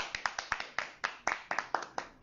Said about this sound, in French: Applaudissez ça.